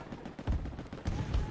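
Gunfire in Battlefield 2042, a few moderately loud bursts of shots in quick succession against a busy background, fairly faint overall.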